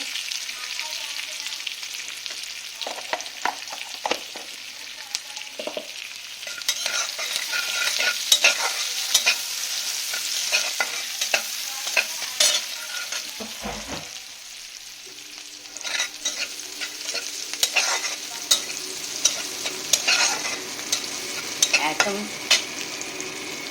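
Chopped onion with salt fries in a pan as the base for yardlong beans with shrimp. A steady close sizzle carries on throughout, broken by frequent spatula scrapes and taps as it is stirred.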